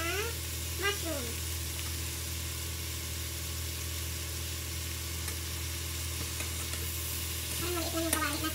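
Pork and mushrooms stir-frying in oil in a small pan, a steady low sizzle with occasional utensil scrapes, faint and continuous beneath a voice speaking.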